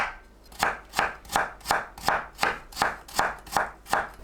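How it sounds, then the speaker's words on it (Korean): Knife finely julienning carrots for a carrot and egg dish, a steady run of crisp, evenly spaced chops on a cutting board, about ten strokes close to the mic with no talking. "당근을 곱게 채 썰어주세요."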